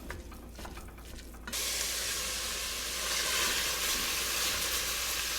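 Italian sausage browning in a pan for a soup: after a quieter start, a sudden, dense, steady sizzle and hiss fills the rest of the moment, loud and close.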